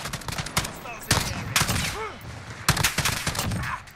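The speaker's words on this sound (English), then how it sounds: "Let's test this out on single fire here" An STG77 rifle fires single shots in Call of Duty: Modern Warfare, a rapid run of sharp gunshot cracks in clusters, with enemy gunfire and game noise filling the background.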